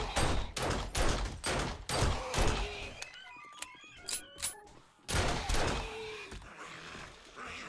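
Rapid bursts of gunfire in the survival video game 7 Days to Die, sharp repeated shots in quick rhythmic clusters with brief pauses and some scattered impacts between volleys.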